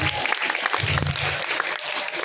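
An audience claps at a regional performance, a dense wash of applause filling the whole moment with a faint voice or low tone underneath.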